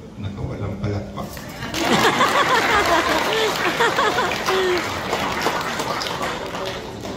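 Applause and crowd chatter from an audience at a 50th birthday celebration at Celebrity Sports Plaza, Quezon City, rising sharply after a quieter start and holding as a dense, steady wash of clapping and voices.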